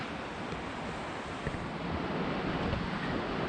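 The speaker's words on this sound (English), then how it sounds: "Can you guys hear the river?" A mountain river near a sake brewery outside Tokyo rushes in a loud, steady, broadband roar with no breaks, mixed with some wind and no talk.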